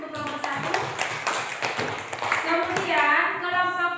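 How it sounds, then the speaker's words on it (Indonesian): A class of students in an Indonesian school lesson clap for a group in a brief, scattered burst of hand claps, with voices mixed in and rising over the final seconds. "tepuk tangan untuk kelompok 1"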